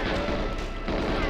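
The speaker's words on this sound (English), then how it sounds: "That's the noise it makes when you die" A short, dense crash-like burst marks the player's death in GoldenEye 007 on Xbox Series X, harsh and full, filling the whole moment with no pause.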